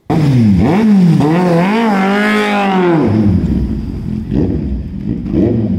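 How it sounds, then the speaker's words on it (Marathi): A sports motorcycle engine revs hard and climbs in pitch as it speeds away, then fades into a lower rumble. "या स्पोर्ट्स बाईकवर मांड ठोकत धूम स्टाईलनं बाईक सुसाट वेगानं पळवली"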